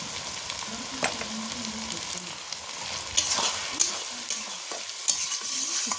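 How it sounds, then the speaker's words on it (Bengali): Spices are stirred and sautéed in hot oil in a frying pan with salt and turmeric, ahead of adding meat for a curry. A steady close sizzle runs throughout, broken by occasional scrapes and knocks from the stirring spoon. "একটু কষে নেব।"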